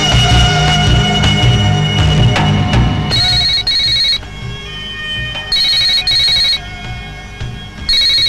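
A telephone rings in repeated electronic trilling bursts, loud and close, with a pause between each pair of rings. Other sounds fade out underneath just before the ringing begins.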